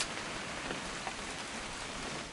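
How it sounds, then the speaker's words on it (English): Steady rain falls throughout a hunting-trip scene in a video game, a continuous dense hiss of drops on surfaces, fairly close and even, with no voices. "It's gonna rain the whole weekend, isn't it?"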